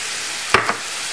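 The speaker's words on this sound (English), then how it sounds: "the first step is browning your meat. At this point I want to add my onions," Ground meat and finely diced onions brown in a pan, a continuous close hiss of sizzling with a couple of quick spoon scrapes near the middle.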